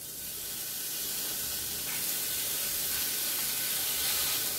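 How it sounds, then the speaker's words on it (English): A beef patty sizzles in a warm skillet, a steady hissing fry that grows slightly louder over a few seconds, close and uninterrupted. "And now I'm going to put my pat in here. The skillet is warm."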